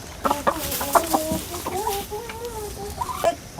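A hen on a village farm clucks repeatedly up close, a run of short rhythmic clucks followed by a longer drawn-out call, with faint background ambience.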